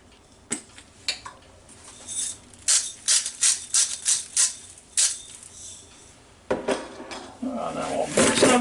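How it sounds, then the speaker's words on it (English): Roasted garlic mashed potatoes being mixed in a Ninja Foodi pot, with a run of clinking, scraping utensil strokes against the pot, loud and close, then a busier clattering stretch at the end. "Now we'll mix that up pretty good right here."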